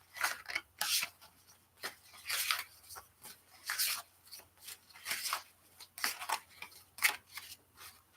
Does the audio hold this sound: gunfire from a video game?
no